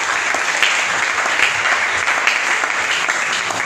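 Church congregation applauding for the Lord, a loud, steady wash of close clapping with scattered sharper claps and no clear voices.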